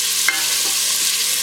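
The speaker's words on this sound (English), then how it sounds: "So I'm getting the onions sauteed a little bit." Onions sauté in a hot pan, giving a loud, steady sizzle and hiss throughout, with a faint scrape or clink of stirring and no talking.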